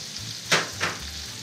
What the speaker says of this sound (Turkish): Öncelikle mantarlarımızı soteliyoruz.